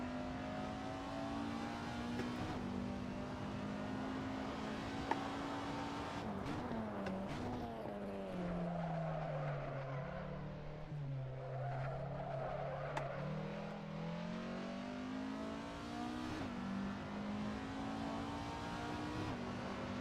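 A race car in Assetto Corsa roars at high revs, the engine note dropping steeply under long heavy braking into a corner before climbing again, with brief tire scrub, loud and continuous throughout.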